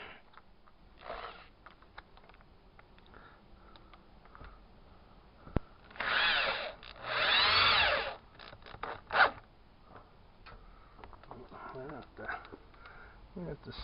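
Power drill driving a screw into a new window frame during a home renovation, two short bursts of whirring motor in the middle of the stretch, with a sharp knock before them and scattered handling noises and talk around them.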